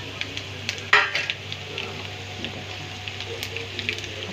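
Spices are tipped into a hot tadka in a pan for mash chana dal, giving a soft steady sizzle with a sharp clink of a spoon against the pan and light stirring scrapes.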